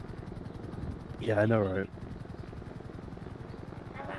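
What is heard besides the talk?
helicopter flying overhead in a video game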